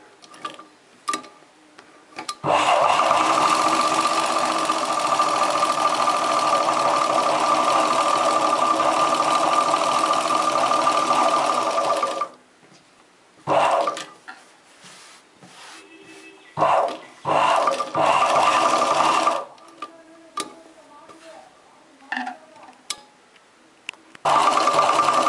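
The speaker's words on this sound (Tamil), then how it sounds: "பெரிய தையல் வச்சு நீங்கள் போட்டுக்கோங்க" A sewing machine stitches a chudidar top with long stitches: one long, loud, steady run of about ten seconds, then several short bursts with quiet gaps between.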